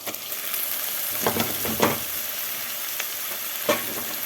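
Cauliflower and shrimp stirred together in a frying pan, with a few soft scraping strokes and light sizzling at close range, separated by quiet gaps.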